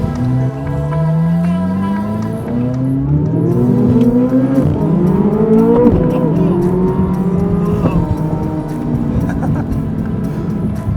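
A 2024 Corvette Z06's flat-plane crank V8, red-lined at 8,600 RPM, revs high and climbs sharply in pitch through several gear pulls, loud and close, with a piercing exotic wail.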